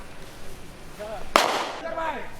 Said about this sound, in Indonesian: Tembakan peringatan ke udara dilepaskan tim gabungan Satres Narkoba Polrestabes Medan dan Polsek Medan Helvetia